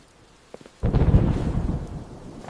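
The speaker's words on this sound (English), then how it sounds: "thunder! It is so loud!" A sudden loud crack and rumble of thunder bursts in after a few faint taps, then rolls on and slowly fades.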